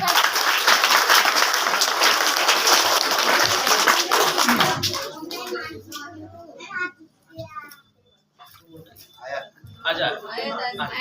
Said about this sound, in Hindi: इस बच्ची के लिए दिल से एक बार तालियां बजाएं।